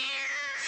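A cartoon kitten from The Aristocats gives a short, high, drawn-out meow, loud and close, with no talk over it.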